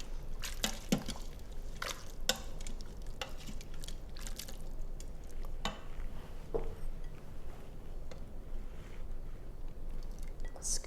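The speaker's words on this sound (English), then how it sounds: "Let's give it a stir." A spoon stirs a pot of black-eyed peas cooked with meat, giving soft wet sloshes and scattered clinks against the pot, faint and close with no talking.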